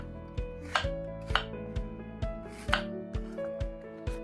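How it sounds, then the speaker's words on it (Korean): A knife dices an onion into large cubes on a cutting board, giving about a dozen crisp, evenly spaced chops, close and clear, with no talk. "기다리는 동안 양파 1 개를 큼직하게 깍둑썰기하고"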